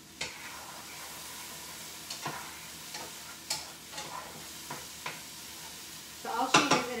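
Stirring burger ingredients with pepper in a pan, a string of separate utensil scrapes and clinks against the pan over a soft steady sizzle, ending in a louder cluster of clattering scrapes.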